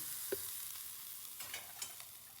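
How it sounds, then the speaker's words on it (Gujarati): Hot oil tempering with asafoetida is poured into raw mango chutney, giving a brief sizzle and a few faint stirring scrapes against a quiet kitchen background, with no talking. "હવે આપણે વઘાર કરી લઈશું ચટણીમાં આ રીતે"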